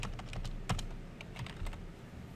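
A computer keyboard is typed on in a short burst of a few quick key clicks, close but fairly quiet, against a low background hum.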